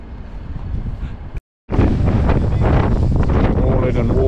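Strong wind gusting outdoors at a cricket ground, a loud steady roar buffeting the microphone with a brief silent cut partway through and no speech.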